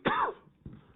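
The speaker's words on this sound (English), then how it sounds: "And I'm going to cough here just a second." A single sharp cough close to the microphone, followed by a softer second huff a moment later.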